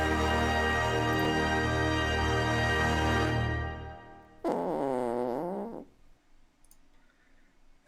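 A single drawn-out fart with a wavering, buzzy pitch, heard during a gaming podcast right after background music cuts out.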